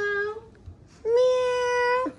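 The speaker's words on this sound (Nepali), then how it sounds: "बहिनीको बिरालो रहेछ कि" A cat gives two clear, drawn-out meows, the second longer and louder, close by over faint background noise.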